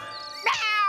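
A cartoon black cat gives a single bright, rising meow, fairly close and clear over a soft tonal background, with no talk.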